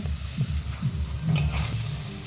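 Fried potatoes being sautéed into a cooked-down spice masala for a potol dhoka curry, with a steady close sizzle and a few soft stirring scrapes and thumps in the pan.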